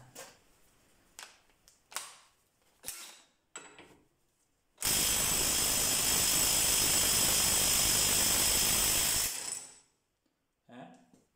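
A DeWalt DCF899H or DCF894H impact wrench set to full power hammers continuously for about four and a half seconds, loud and close, with scattered knocks and handling noises before and after.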